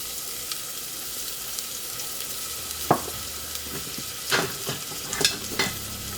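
Thinly sliced shallots and minced garlic sizzle gently in avocado oil, a soft constant frying hiss with a few spoon scrapes and stirs in the last seconds, close up and unaccompanied by voices.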